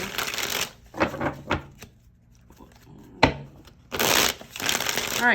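Tarot cards are shuffled in brief riffling bursts, close and crisp, separated by quieter pauses with light handling noise.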